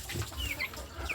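Chickens around 45 days old feeding on a small poultry farm, soft low clucks and brief high chirps close by over a busy rustle, no speech.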